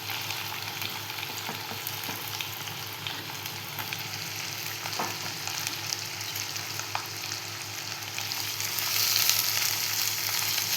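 Finely chopped onion sautéing in a pan for a spicy Marathi-style chicken gravy, a steady close sizzle and crackle throughout with occasional stirring scrapes, growing slightly louder toward the end.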